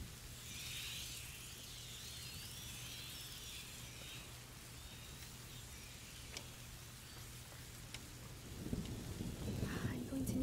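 Rain and thunder from the video game A Plague Tale: Innocence: a steady hiss of rainfall with faint, distant rumbles, then a louder, deeper burst of thunder or rain noise swelling near the end, with no voices.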